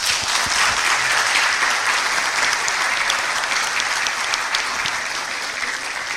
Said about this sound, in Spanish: con el aplauso correspondiente para demostrar nuestro agradecimiento a los expositores